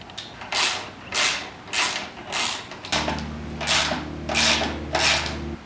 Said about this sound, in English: So I'm going to grab a 3/8-inch ratchet wrench,